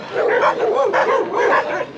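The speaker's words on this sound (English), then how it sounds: "Those dogs are going crazy." Several dogs bark and yelp loudly and close together in overlapping bursts on a street in San Cristobal de las Casas, Mexico, an agitated, continuous ruckus.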